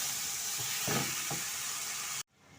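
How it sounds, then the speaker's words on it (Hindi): A spice masala roasts in a pan with a constant close sizzling hiss and a few soft stirring scrapes, then the sound cuts off abruptly near the end. "ये हम अपना मसाला भून रहे हैं, आप देख सकते हैं।"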